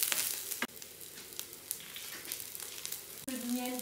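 Carrots and onions fry steadily in a pan, a soft and continuous sizzle with small crackles throughout, interrupted twice by brief clunks of stirring or handling.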